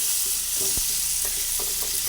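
Salted potato pieces fry in oil in a pan for a mixed brinjal, potato and capsicum curry, giving a close, steady sizzle with a few soft stirring knocks and no talking.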